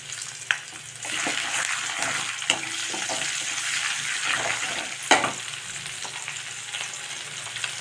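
Curry leaves and small-cut green chillies fry in hot oil with a close, steady crackling sizzle and a few sharp pops.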